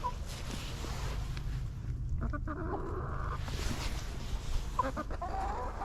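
Chickens cluck softly in a wood-chip chicken run in a garden, a few short calls rising over a steady low outdoor hum, fairly faint and intermittent.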